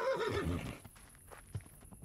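A horse whinnies loudly in Kingdom Come: Deliverance, then its hooves clop away in a few faint, scattered beats as it runs off.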